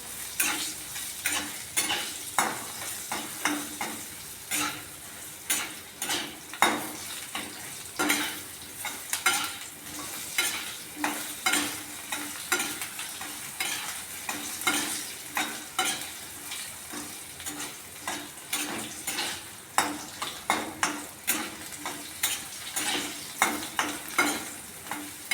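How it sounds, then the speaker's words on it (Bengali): Eggplant frying in hot oil alongside drumstick pieces for a mixed vegetable curry, a steady sizzle broken by repeated scraping strokes of a spatula stirring the pan, close and even throughout. "বেগুনটা লাল লাল করে ভেজে নেব।"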